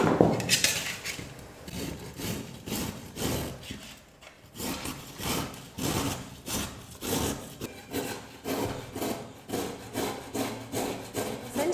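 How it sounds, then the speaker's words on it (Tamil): Beetroot and carrot rubbed against a hand grater in a kitchen, a close, rhythmic rasping scrape repeating in steady strokes with a brief pause partway through. "கேரட்டையும் பீட்ரூட்டையும் துருவி எடுத்துக்கலாம்."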